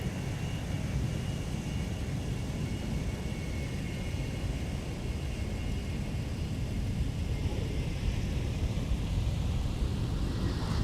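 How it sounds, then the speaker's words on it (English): An Airbus A320neo airliner landing at Minneapolis–Saint Paul airport, heard as a steady broadband jet roar with deep rumble. It holds constant and fairly loud throughout with no voices. "We got a Neo about to touch down."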